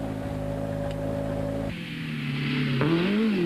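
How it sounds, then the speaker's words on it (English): A Volkswagen Golf rally car at the 1993 Swartland Rally pulls off the route, its engine droning steadily before an abrupt change in note and a rising, revving pitch toward the end, with no voices. "Yanni pulls the car off the rally route in search of water and hopeful of getting the Golf to his service crew"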